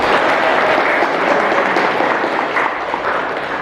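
An audience at a motivational talk applauds, a dense burst of clapping that stays loud for a few seconds before easing slightly, with no talk over it.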